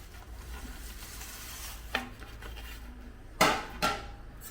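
Quiet rustling in a heavy-bottomed pan punctuated by a few sharp scraping clanks of a utensil against metal as dry flattened rice (poha) flakes are stirred.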